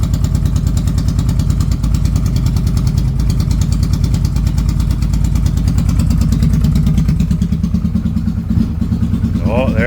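A 2022 CanAm Renegade 1000XMR ATV engine idles with an intermittent misfire, a loud, close, continuous rumbling chug with steady pulsing and a slight stumble near the end.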